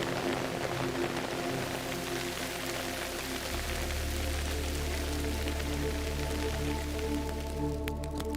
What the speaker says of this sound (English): How important is this rain that we're feeling right now to this community?